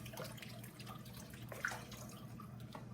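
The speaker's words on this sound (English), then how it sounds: "fill this all the way up, so I'm going to add water to it" A cooking pot fills with water from a running tap, a steady, soft splashing stream with a low hum underneath, continuous throughout and without speech.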